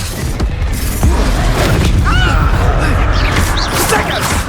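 A loud, dense blast from a Confringo spell in the Hogwarts Legacy video game, with a heavy booming crash and swirling magical whooshes that stay sustained and close throughout.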